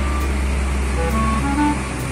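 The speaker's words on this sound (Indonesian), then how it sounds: "Truk molen." A cement mixer truck rolls past in congested traffic, giving a moderate, steady engine rumble with faint horn-like tones and beeps drifting through it. The passing is fairly close and lasts the whole moment, without speech.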